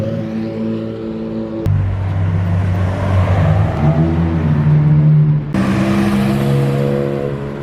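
A straight-piped BMW M4 F82 roars with a loud, deep exhaust drone that holds steady, jumps abruptly to a heavier, rumbling note as the revs change, then shifts again near the end, heard up close from inside the car.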